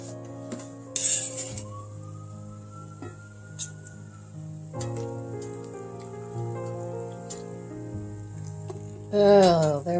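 Al dente pasta is added to a sizzling pan, bringing a soft frying hiss with clinks of a skimmer and pan under steady background music, ending in a louder burst of sizzle.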